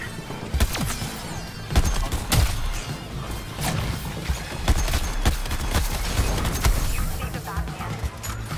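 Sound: gunfire in Suicide Squad: Kill the Justice League video game

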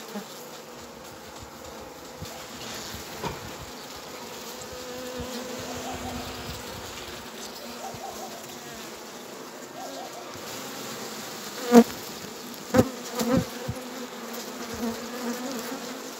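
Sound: honeybees buzzing at beehives

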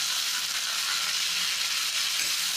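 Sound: radish and radish leaves frying, stirred in pan

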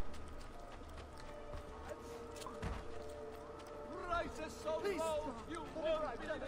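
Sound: horse hooves in a video game

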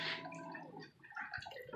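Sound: running water being shut off

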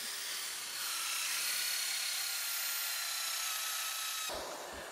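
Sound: diamond grit hole saw cutting hole in door

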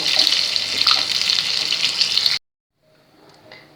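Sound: fish frying in a pan

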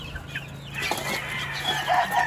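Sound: roosters clucking

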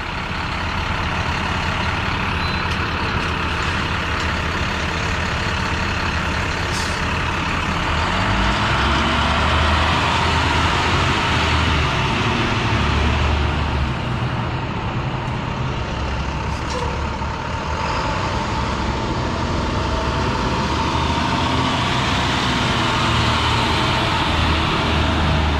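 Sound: school buses pulling into Harborfields High School

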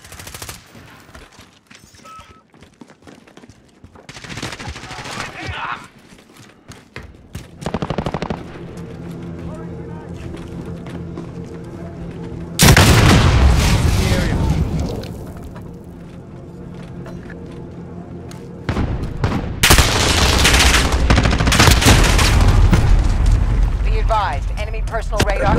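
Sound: gunfire in Call of Duty: Modern Warfare video game

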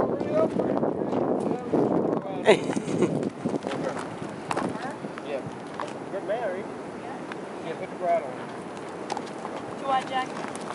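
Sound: horse trotting in hand, hooves clip-clopping

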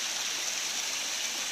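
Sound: Mendanha waterfall in Bangu

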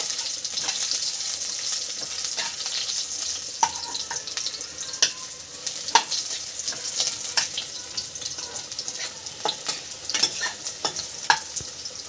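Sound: frying bori lentil dumplings in a pan

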